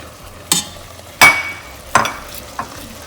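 A grated coconut mixture for lavariya is stirred in a pan over low heat, with four distinct scraping strokes against the pan and soft sizzling between them, close and clear.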